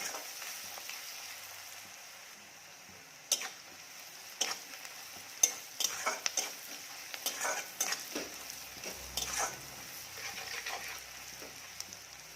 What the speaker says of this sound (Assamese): মাছখিনি 2 মিনিট ভাজি ল'ম।